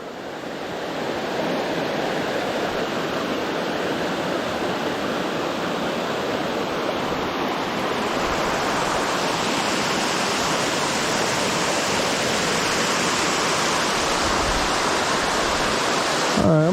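Pig Pen Falls, a waterfall on a hike, roars as a steady, loud, broadband rush of falling water. The sound runs unbroken the whole time and no one speaks.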